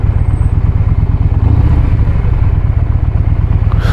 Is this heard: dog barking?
no